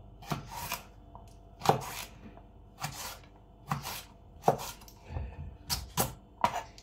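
A knife chops celery into small dice on a cutting board, making close, crisp strokes in short irregular bursts of several cuts with brief pauses between.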